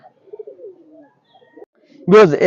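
Soft cooing of Pakistani highflyer pigeons murmurs in a quiet loft, followed by a louder close burst of cooing at the end.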